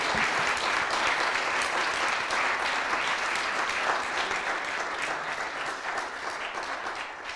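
Audience applauding the speakers at an evening business event, a steady, even roar of many hands clapping for several seconds, easing slightly toward the end.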